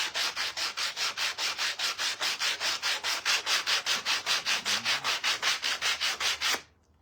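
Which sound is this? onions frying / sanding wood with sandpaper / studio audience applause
sanding wood with sandpaper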